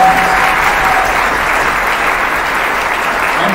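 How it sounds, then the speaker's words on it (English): Loud, dense applause fills a high school auditorium at a spring band concert, a sustained wash of many hands clapping evenly throughout with a brief faint tone at the start. "would you please give her a huge round of applause"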